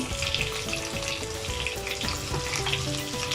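Ginger and garlic paste frying with onions in a pan for vegetable pulao, a dense, continuous close sizzle with faint stirring underneath.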